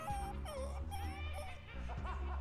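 Oscar the dog whimpering in the TKKG video game, a string of high, wavering whines and short yips over a steady low background hum.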